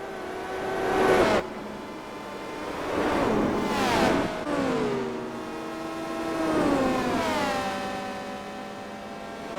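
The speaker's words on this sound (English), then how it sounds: "the sound of these cars is a little bit underwhelming. Really sounds like the proverbial knitting machine" Synthetic-sounding racing car engines in Gran Turismo 4 whine through repeated rising and falling revs, three swelling passes with thin, buzzy tones.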